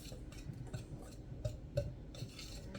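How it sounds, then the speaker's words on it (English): Flour and cinnamon whisked together gently in a small mixing bowl, a steady run of light metallic clinks and scrapes with a few sharper taps, close and fairly quiet. "So now we're just going to whisk this together. Our flour and our cinnamon."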